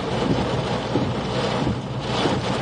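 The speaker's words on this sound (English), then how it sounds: "here comes some pretty strong gusts" Strong wind roars steadily and buffets the microphone, with heavy gusts swelling through a dense, continuous rush, trees bowing, during a damaging wind event in Kansas.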